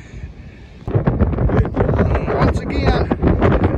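Gusty wind buffets the microphone in a rumbling, continuous roar while walking open plowed fields hunting arrowheads in Kentucky, with someone speaking briefly over it.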